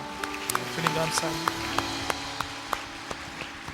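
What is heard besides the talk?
congregation applause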